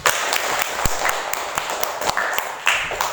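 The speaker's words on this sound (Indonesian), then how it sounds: "Tepuk tangan, sudah." Classroom applause: a short burst of scattered hand claps with uneven, sharp individual slaps over a few seconds, fairly close, with faint room noise between the claps.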